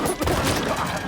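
Several gunshots ring out in a film scene as a man kills his driver, a dense, loud burst of firing that fills the whole moment with no clear gaps.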